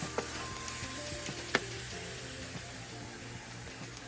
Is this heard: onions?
yes